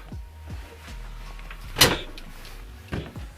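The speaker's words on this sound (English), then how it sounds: "Lights up when you open the doors." Cedar-lined closet doors opening inside a 2017 Airstream Classic travel trailer, giving a few soft thumps and a sharp latch click, followed by a later, lighter clack against a quiet background.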